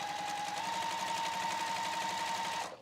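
A sewing machine stitches a fabric strip in one continuous run, its steady motor whine and quick needle rhythm holding evenly for over two seconds before stopping, fairly quiet and without speech.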